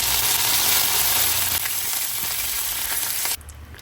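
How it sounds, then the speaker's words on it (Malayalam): Mustard seeds and curry leaves frying in hot oil in a pan, a loud, steady, close-up sizzle with faint crackles throughout that drops noticeably quieter near the end. "അങ്ങനെ പാനിൽ എണ്ണ ചൂടാക്കിയിട്ട് കടുകും കറിവേപ്പിൻ്റെ ഇലയും കൂടെ ഇട്ട് കൊടുക്കുക."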